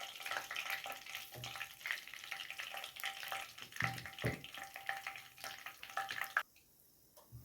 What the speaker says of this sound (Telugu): 3 యాలకులు, పచ్చి యాలకులు, ఇవి కొంచెం వేయించుకోవాలి.